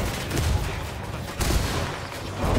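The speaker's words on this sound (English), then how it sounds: "Start shooting now if you see anybody." Sustained gunfire from the Ghost Recon Wildlands video game, a dense rattling volley with a few louder bursts that keeps going for the whole stretch, with no talk over it.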